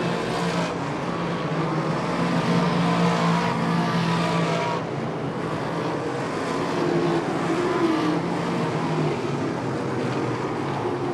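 Race cars drive laps under a yellow flag, a dense steady engine roar that holds loud throughout, with passing swells and no clear gaps.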